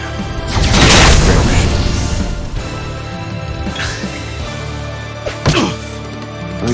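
A fire spell effect from the Octopath Traveler video game erupts as a loud booming whoosh that swells and fades over a steady musical backdrop, with a couple of smaller impact hits following.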